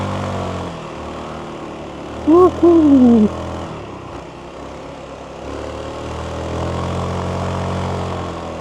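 Zontes 368G scooter engine while riding on a damp, gently sloping mountain road at Gunung Jerai, a steady low drone with wind, briefly overlaid by a rising and falling tonal whine, under intermittent talk.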